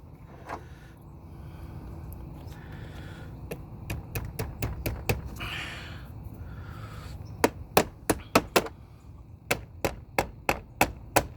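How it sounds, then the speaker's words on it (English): A replacement car battery is pounded down into place with a run of sharp, close knocks, arriving in irregular bursts of several strikes over a low steady background hum. "I'm gonna finish maybe pounding it a little bit more."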